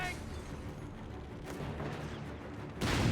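Gunfire crackles through a battle in Company of Heroes 3, with a dense, steady spread of shots and rumbling booms that swells into a louder burst near the end.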